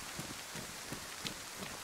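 Steady rain falling across a modded Farming Simulator map in the game, a soft, even hiss with scattered faint drop ticks, quiet and continuous with no voices.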